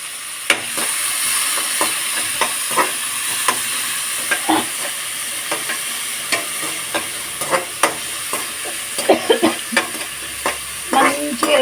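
Onions, green chillies and tomato pieces fry in a pan while a spoon stirs them, giving a steady sizzle broken by repeated sharp scraping knocks that grow busier toward the end.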